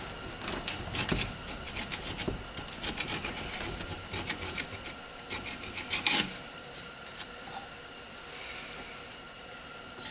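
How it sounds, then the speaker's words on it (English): A small screwdriver scrapes old cork gasket sealer off a cast aluminum parts washer housing, making repeated close rasping strokes with gritty bursts and brief pauses, no voice. "Let's see if we can get in there with a little screwdriver. Scrape some of that away."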